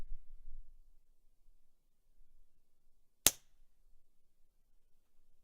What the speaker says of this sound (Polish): I oddamy strzał kontrolny.